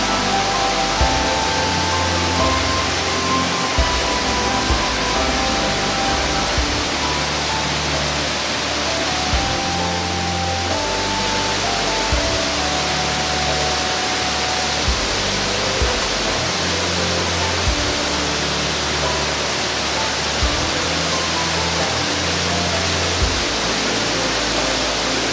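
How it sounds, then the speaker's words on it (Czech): Large waterfall at Silver Lake roaring steadily and loudly, a dense unbroken rush of falling water close by, with no speech. "Veliký vodopád."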